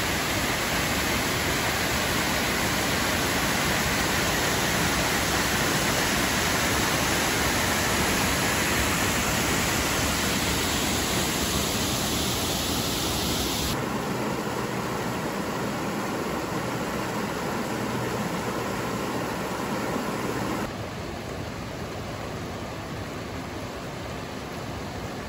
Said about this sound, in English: look at this waterfall, absolutely amazing